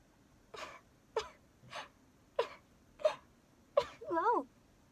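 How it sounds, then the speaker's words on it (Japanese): A young woman sneezes six times in a row, each a sharp, close burst about half a second apart, and the last is followed by a wavering voiced exclamation. "くしゃみでそう。"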